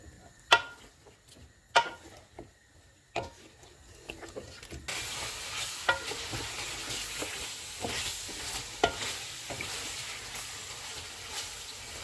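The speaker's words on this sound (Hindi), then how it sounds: "अब हम चूल्हे को मीडियम कर देते हैं और इसको ऑयल अलग होने तक भून लेंगे।" Chicken korma stirred and fried in oil over a medium flame, with a steady sizzle and a few sharp spoon scrapes and knocks against the pot, the frying growing louder and denser partway through.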